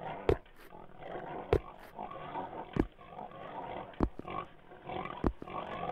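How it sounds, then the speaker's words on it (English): Pigs in a horror video game give short, loud grunting bursts at roughly regular intervals, close by, over a low rumbling game ambience. "Them pigs about to eat me."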